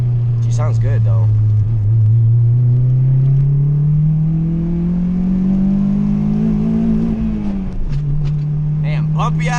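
A 2002 Acura RSX with a turbo build accelerates on a bumpy road, its engine note climbing steadily in a loud, close drone before dropping back at a shift, with someone talking briefly over it.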